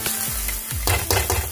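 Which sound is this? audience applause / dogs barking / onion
onion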